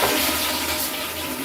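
A toilet flushing with a steady, loud rush of water that carries on unbroken from start to finish.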